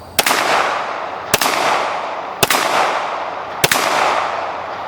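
Four sharp, loud pistol shots from a Canik SFX Rival handgun crack out close at roughly one-second intervals, each followed by a short decaying echo, with no talking.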